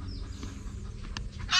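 Brooding hens clucking softly in a coop, a few low, faint calls over steady background noise, ending with a brief louder burst of noise.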